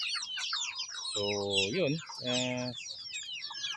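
Backyard pet chickens, part of a flock of about sixty, cluck and chatter continuously in a dense overlapping chorus, with someone talking briefly over them.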